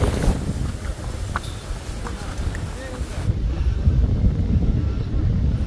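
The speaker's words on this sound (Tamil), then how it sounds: "சரியான காத்து பாருங்க." Strong wind buffets the microphone in a continuous low rumble at the Saravana Poigai dam on a hill, with a person talking faintly underneath.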